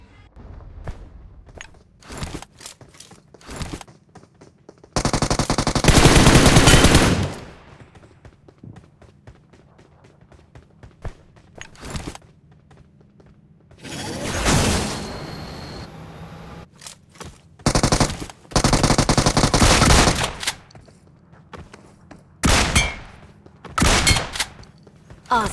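Gunfire in the BGMI battle royale mobile game, with sharp bursts and rapid volleys of shots spaced across the stretch, some long sustained sprays, mixed with footsteps and small in-game handling noises between them.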